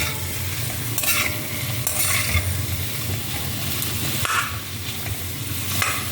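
Baby potatoes sizzle and fry steadily in hot oil, with occasional stirring scrapes and clinks of a utensil against the pan.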